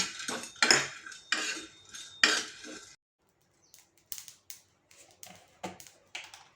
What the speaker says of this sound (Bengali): কোনো তেল না দিয়ে শুকনো অবস্থায় একটু ফ্রাই করে নিচ্ছি